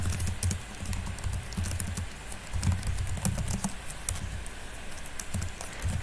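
Fast, steady clatter of a computer keyboard as HTML code is typed, crisp close keystrokes in irregular bursts with no pause in the rhythm.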